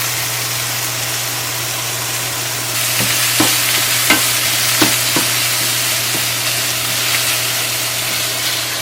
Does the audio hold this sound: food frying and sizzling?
yes